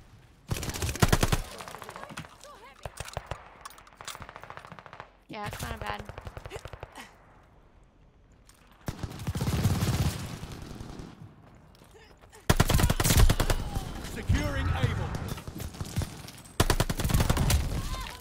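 Gunfire in Call of Duty Vanguard comes in several dense bursts of rapid shots separated by brief lulls, loud and close, with players talking between the volleys.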